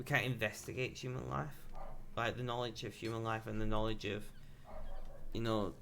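A pet dog barking and yipping somewhere in the house at passing bin men, the short sharp barks mixed under steady close talking from a man.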